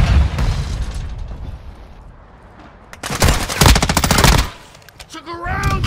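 Video game gunfire and a thrown Semtex grenade exploding, with loud bursts of rapid machine-gun fire, a lull, then a dense, heavy volley up close, and a voice briefly calling out near the end.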